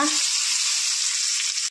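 Bay leaf crackles and fries in hot oil in a Bengali prawn curry pan, a loud, steady close sizzle throughout.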